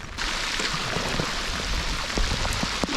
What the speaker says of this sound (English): Let the rain fall down on top of me.